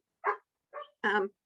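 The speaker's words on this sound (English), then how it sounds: "you might be hearing my dog bark." A dog barks three times, close and fairly loud, with short gaps between the yappy barks.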